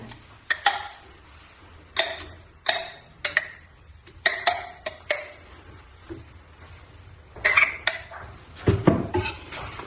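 Condensed milk being moved into the bowl of a planetary stand mixer: scattered clinks and taps of a utensil against the bowl, a few sharp knocks arriving irregularly, with no talking.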